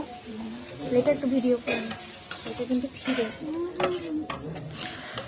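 Coconut filling being stirred in a wok for patishapta, with scraping and light sizzling in bursts while a person talks over it.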